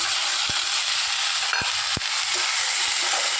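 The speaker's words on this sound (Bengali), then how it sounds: "এর মধ্যে দিয়ে দিচ্ছি আদা আর রসুন বাটাটা" Ginger and garlic paste added to browned onions frying for ghugni cooked with goat fat, a loud, steady sizzle with three sharp spoon taps against the pan.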